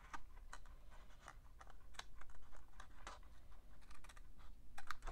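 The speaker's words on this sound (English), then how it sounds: "this piece here, I'm going to trim that to that score line" Card paper being trimmed along a score line with a cutting tool, a series of short dry scratchy clicks and snips in an uneven rhythm, close and quiet, with no talk.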